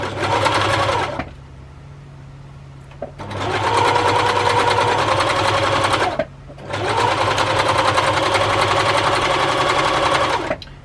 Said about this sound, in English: line it up and just continue to sew